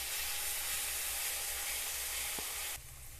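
Garlic and red chilli paste for chutney sizzles loudly in a hot pan with a steady frying hiss that drops away abruptly near the end.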